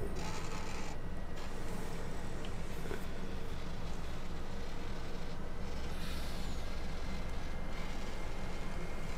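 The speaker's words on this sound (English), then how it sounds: "That's that big garbage truck." A big garbage truck rolling along in Farming Simulator 19, its engine droning steadily and loudly throughout with faint mechanical hisses and rattles layered on top, and no voices.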